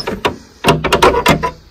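A door opening, with a few sharp knocks and rattles at close range, the handle and frame clattering in short bursts, with no talk over it.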